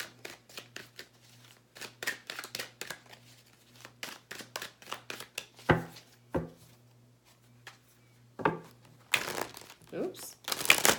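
A thick deck of tarot cards being shuffled by hand, a run of crisp riffling snaps and flicks in bursts, close and clear, with pauses and a louder flurry of shuffling near the end.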